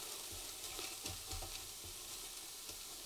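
Frozen veggie mince browns in a Ninja Foodi, a soft steady sizzle with a few scraping stirs of a utensil, heard close and quiet with no talking.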